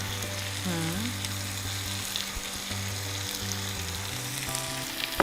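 Vegetables cooked in tomato sauce fry loudly in a pan with a steady sizzle and crackle throughout, while background music with sustained tones plays underneath.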